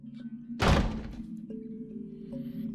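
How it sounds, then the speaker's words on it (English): A door slams shut with one heavy, loud thud that rings out briefly, then fades into a steady low hum with faint room tones behind it. "the door slammed."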